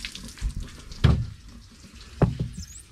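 Water runs into a poly live bait tank on a Stacer Proline boat, a steady gurgling flow with two louder sloshing bursts, close by and with no talking.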